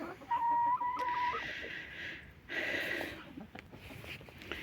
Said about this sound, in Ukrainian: Ось курочки несуться.